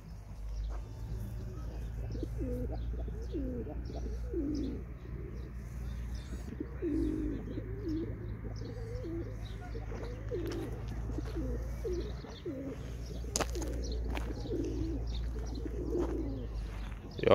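Pigeons coo repeatedly in soft, throaty bursts over a steady low hum, with occasional chirps from other birds.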